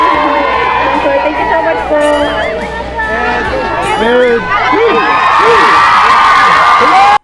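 A large crowd at an event shouts, whoops and cheers loudly and without a break as a person is called up. High voices stand out in the mass of sound, and the noise builds toward the end.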